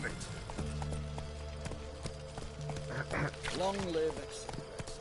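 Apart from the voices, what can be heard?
horse Roach trotting in video game The Witcher 3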